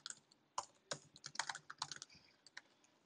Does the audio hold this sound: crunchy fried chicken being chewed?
no